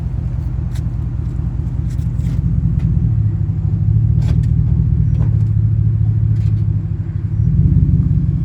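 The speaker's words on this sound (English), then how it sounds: "I'm gonna have to move the truck up just a tiny bit to get it squared into the thing" A pickup truck's engine idles and rumbles steadily as the truck creeps forward a short distance to line up with a weight distribution hitch for towing, with a slight rise in engine sound near the end.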